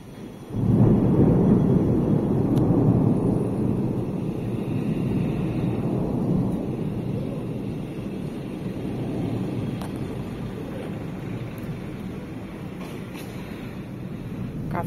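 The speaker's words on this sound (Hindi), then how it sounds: "काफी अच्छी हवा चल रही है" Steady wind rushing past a balcony, a continuous low roar that gusts in suddenly and stays strong, buffeting close to the microphone.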